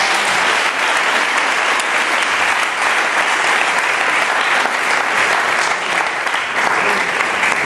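An audience claps loudly and continuously at a religious mission gathering, dense sustained applause filling the whole stretch without letting up.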